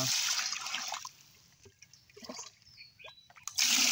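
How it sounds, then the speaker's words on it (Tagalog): Water is poured from close by onto the soil of a fruiting bottle gourd plant, splashing loudly at the start, going quiet with a few faint drips, then gushing again at the end. "lalagyan ko lang ng tubig"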